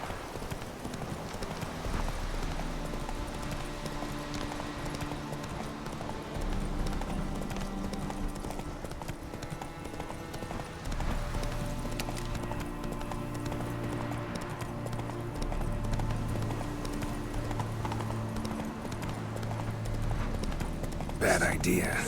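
In The Witcher 3, the horse Roach gallops with steady rhythmic clip-clop hoofbeats for the whole stretch, mixed with game music and a voice talking over it.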